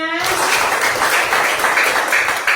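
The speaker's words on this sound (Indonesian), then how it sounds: "tepuk tangan untuk kita semuanya." A school class applauding together, loud and close: a burst of clapping from many children starts right away and keeps going steadily, with a voice briefly heard at the very start.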